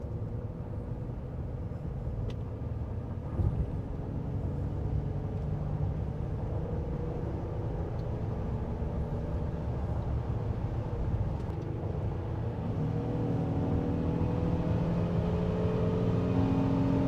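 A Honda Ridgeline truck accelerates onto a highway, its engine and road noise forming a steady rumbling drone from inside the cab that slowly rises in pitch as it gathers speed.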